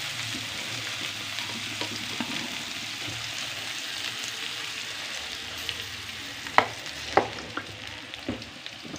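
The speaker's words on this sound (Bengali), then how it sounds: "এতগুলি মাছ ভুনা তো" Koi fish frying in oil in a pan, a steady close sizzle with occasional spatula scrapes and a few sharp knocks near the end.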